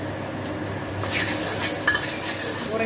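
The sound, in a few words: garlic frying and stirring in hot oil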